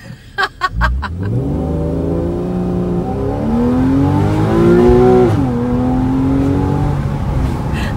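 A 2013 Porsche 911 Carrera of the 991 generation with PDK transmission accelerates hard from inside the car, its engine climbing loudly through the revs with a brief dip at a gear change, after a few short knocks at the start.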